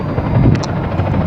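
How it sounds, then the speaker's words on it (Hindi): A helicopter's spinning rotors make a dense, loud, steady roar with broadband turbine noise as the aircraft prepares to lift off, close by and continuous with no speech. "थोड़ी देर पंखे घूमने के बाद हेलीकॉप्टर यहाँ से जाने लगता है"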